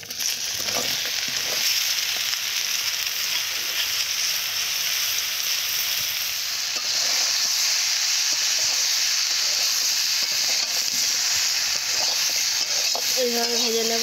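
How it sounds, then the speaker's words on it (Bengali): Ridge gourd, potato and onion fry together in a pan, a loud steady sizzle and hiss throughout with occasional stirring scrapes, with no speech over it. "এইভাবে ভেজে নেব।"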